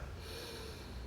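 A single long, breathy exhale during a connected breathing exercise, soft and close, filling the whole moment with airy rushing noise and no talk.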